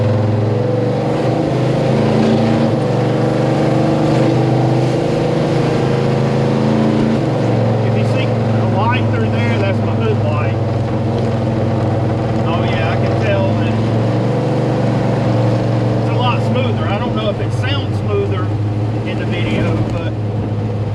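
A car engine fitted with Holley Dominator carburetors idles with a steady, close, low rumble that holds an even note for the full stretch, with no clear revving.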